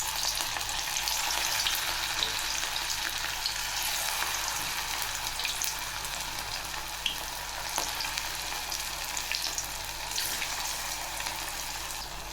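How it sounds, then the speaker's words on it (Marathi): Sago medu vada fry in hot oil over high flame, a continuous dense bubbling sizzle that holds steady and fairly quiet throughout, with no voices. "तेल छान गरम झाल्यावर आपल्याला हे मेंदू वडे टाकून घ्यायचे आहेत"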